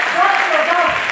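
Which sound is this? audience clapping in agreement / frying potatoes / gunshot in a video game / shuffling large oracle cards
audience clapping in agreement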